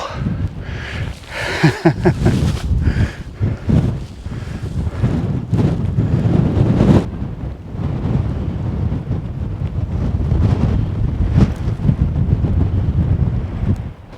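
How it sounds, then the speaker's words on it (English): Strong gusting wind buffets the microphone on open Dartmoor moorland near Yes Tor during stormy, showery weather, a loud continuous roar with sharp bursts and no voices. "Quite a strong breeze with it."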